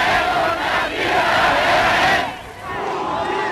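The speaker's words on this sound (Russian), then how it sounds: "Их тоже тут встречали с ликованием." Archival recording of a large crowd cheering and shouting in Austria in March 1938, a loud, continuous roar of many voices that dips briefly and swells again.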